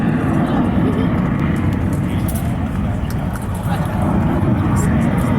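Steady, loud roar of a Blue Angel T-33 jet making a pass at a military air show, a dense broadband rumble that holds throughout with only a slight dip midway.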